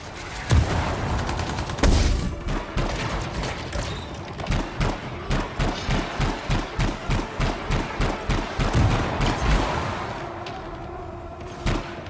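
Rapid automatic gunfire in the Anthem video game: a long, loud run of evenly spaced shots with a few heavier bursts, fading toward the end.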